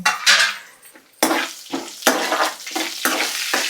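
Dried red chillies fry in a pan with repeated metallic scrapes and clinks of a spoon stirring, each stroke a loud burst over a soft sizzle, close up and with no talking.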